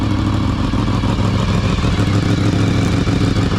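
A Honda VFR 750 motorcycle engine runs steadily close by, a loud, even mid-range drone with a continuous mechanical clatter and no breaks.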